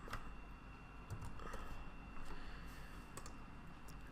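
Keys tapped on a computer keyboard while entering search keywords, a quiet run of irregular clicks over a low steady hum, fairly close but faint.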